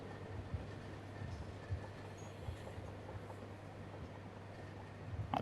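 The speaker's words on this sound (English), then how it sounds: "Oh, the train just keeps on coming." A long train of wagons rolls past at a steady pace in Train Sim World 3 on the Dartford to Faversham route, a continuous rumble with faint clicking of wheels and no voices.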